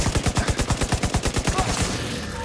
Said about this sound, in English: I'll provide cover fire.